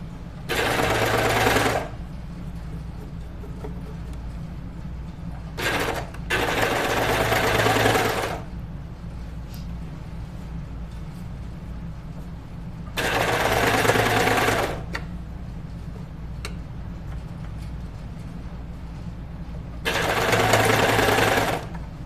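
A serger sewing machine stitches the seams of a Moneta knit dress in four fast whirring runs of a second or two each, separated by quiet pauses with faint handling sounds.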